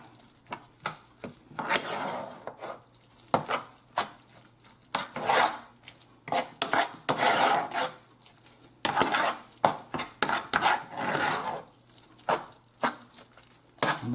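A spoon stirs cornbread dressing mixed with egg in a pot, scraping and clacking against the sides in irregular bursts, close and fairly loud, with no talking.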